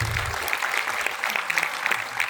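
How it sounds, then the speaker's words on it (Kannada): Audience applause for Meghana at a Kannada talk by K. N. Ganeshaiah, a steady patter of many hands clapping throughout, a low voice briefly audible at the very start. "ಆ ಮೇಘನಾ ಅನ್ನೋವ್ರ ಕೈಲಿ ಅವ್ರಿಗೊಂದು ದೊಡ್ಡ ಚಪ್ಪಾಳೆ ತಟ್ಟಿದ್ದೇವೆ"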